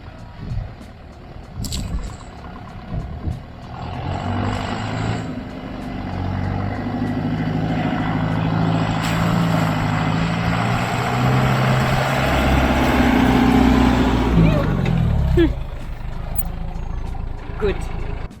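A Land Rover's engine drones and rises as it pushes through a mud pit on an outback overlanding track, a low rumbling load building over several seconds and then easing off, with people talking over it.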